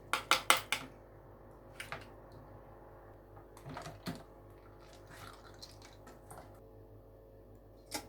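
Ice cubes clink into a container of homemade plum juice: a quick cluster of three sharp knocks at the start, then scattered single clinks and rattles, close and fairly loud against a quiet background.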